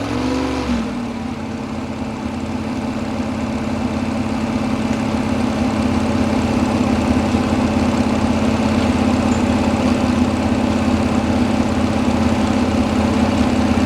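Modified tractor engine held at full throttle during a county fair tractor pull: a loud, constant low roar with strong droning harmonics that stays steady after a brief shift near the start, heard from a moderate distance with no talking.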